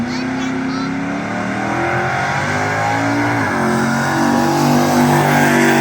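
A Pontiac Trans Am drag car runs down a drag strip with a loud, sustained engine roar that rises in pitch as it shifts and pulls away. Excited voices talk over it.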